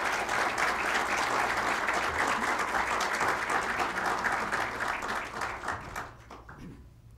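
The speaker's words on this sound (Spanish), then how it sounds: "lo recibimos con un fuerte aplauso" An audience gives a strong round of applause to welcome Dr. Restrepo to the podium, a full steady burst of many hands clapping that tapers off and dies away near the end.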